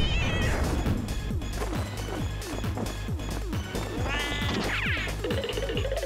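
A cat in a Pokemon video game meows again and again in short, sliding cries. A rhythmic musical bed with a steady low pulse runs beneath, and a longer wavering yowl rises near the end.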